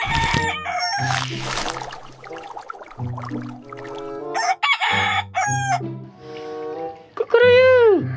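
A toy rooster crows loudly alongside toy vehicles, its crow rising and falling clearly near the end after a stretch of jingly electronic tune and melodic toy sounds.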